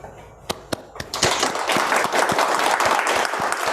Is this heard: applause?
yes